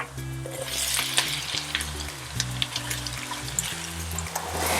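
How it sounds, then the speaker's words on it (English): Sliced chorizo bilbao frying in a pan as part of callos, a steady close sizzle with a faint watery crackle, with strong low steady tones running beneath the sizzle. "I'll start off cooking the sliced chorizo bilbao"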